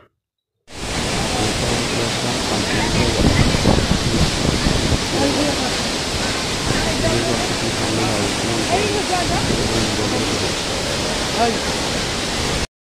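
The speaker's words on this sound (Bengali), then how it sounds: "অত জোরে জল পড়ছে" A forceful waterfall in Sikkim, near Pelling, roars as a loud, steady rush of broadband noise from just after the start until the end.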